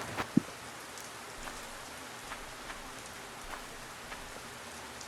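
Steady rain falling in the video game Multicraft, a soft continuous hiss with a few sharper drop ticks scattered through, faint and alone with no voices.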